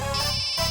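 A phone rings with an electronic melodic tone, steady and fairly close, with no voices.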